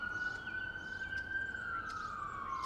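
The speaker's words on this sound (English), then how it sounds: "That was an ambulance." An ambulance siren wails steadily in the distance, one long sustained tone over constant background noise, fading slightly toward the end.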